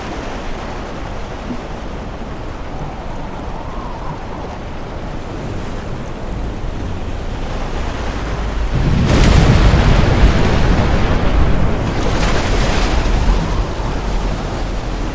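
Ocean surf pounds a shoreline in a continuous roar with wind buffeting the microphone, and a heavier wave crashes and swells louder partway through before settling back to a steady rush.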